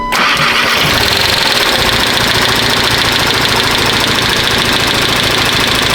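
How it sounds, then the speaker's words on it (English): A freshly installed replacement engine in a VW Golf 7.5 TCR cranks and fires on its very first start, then runs with a loud, steady, rough mechanical clatter from a bearing knock, close up with no talking. "A bearing knock on a brand new engine."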